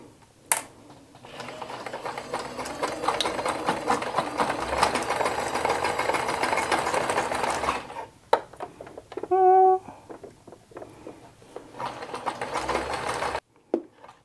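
A sewing machine stitching a waistband, with a long steady whirring run of fast stitches. It stops briefly, gives a short higher-pitched burst and a few clicks, then runs again until it cuts off abruptly.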